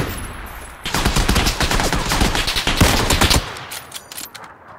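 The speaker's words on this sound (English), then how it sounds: "I'm just trying to shoot." Sustained automatic gunfire in PlayerUnknown's Battlegrounds, dense rapid shots rattling loudly for about two and a half seconds before cutting off, with quieter ambience around it.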